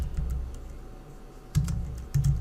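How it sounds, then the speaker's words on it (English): Fingers tap on a computer keyboard in short bursts of close, crisp keystrokes separated by brief pauses, with no speech. "let's type in the word"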